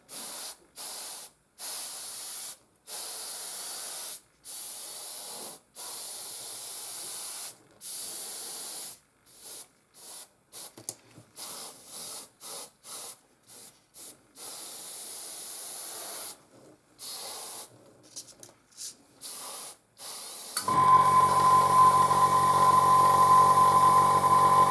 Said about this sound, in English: apparently I forgot to clean the tip of the airbrush again